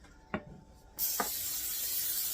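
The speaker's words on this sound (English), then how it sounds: "make sure that you spray that even around the center" Cooking spray hisses into a Bundt pan: two short bursts, then a long, loud continuous spray close by.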